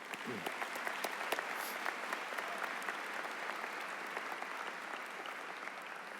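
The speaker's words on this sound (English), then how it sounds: "One more round of applause for our Kilbourne singers." Graduation crowd at a high school commencement applauds the school's singers, a steady wash of many hands clapping from a distance, even in level and fairly soft.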